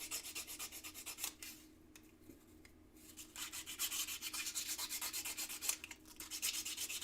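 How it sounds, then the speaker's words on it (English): Sandpaper rubs back and forth over a filed workpiece to smooth away file marks, a steady rhythmic scratching of close strokes with a short pause in the middle. "I'm going to hit this with a little bit of sandpaper just to give it that bit of a finishing touch"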